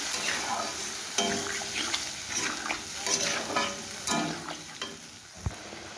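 Water poured into a pan of well-fried spice paste for a fish roe fritter curry sizzles and hisses steadily, with stirring and occasional utensil clinks close by.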